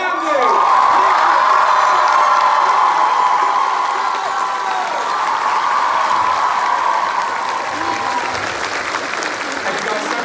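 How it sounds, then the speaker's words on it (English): A convention crowd at a TwitchCon panel breaks into loud, sustained applause mixed with whoops and cheering that rises, holds and slowly eases off. "Round of applause as well for Jack Ramsey."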